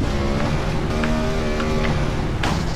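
Motorbike engine in the GTA video game, a steady continuous drone with harmonic whine that holds throughout at constant loudness, with wind-like rushing noise layered over it.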